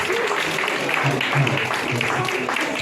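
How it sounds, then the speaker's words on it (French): An audience at a Christian album-release gathering in Paris gives a round of applause, a moderate wash of clapping with voices talking over it throughout. "Est-ce qu'on peut applaudir très fortement les seigneurs pour ça?"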